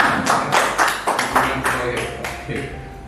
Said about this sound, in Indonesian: tepuk tangan untuk Josi